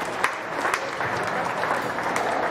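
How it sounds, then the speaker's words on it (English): A crowd at a county fair sheep show gives steady applause from the ringside, a continuous, fairly loud patter of clapping with a few sharper claps standing out. "Let's give them a round of applause"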